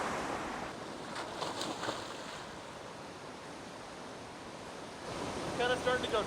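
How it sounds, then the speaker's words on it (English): A large waterfall in the High Sierra along the John Muir Trail pours into a pool, a steady, distant rushing roar of falling water, with faint voices near the end. "It's like looking out over a huge waterfall."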